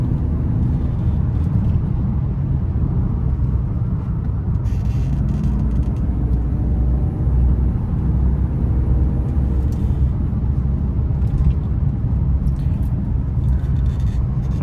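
A BMW E36 climbs winding mountain touge roads, its engine and road noise forming a steady, loud, unbroken low rumble with no voices.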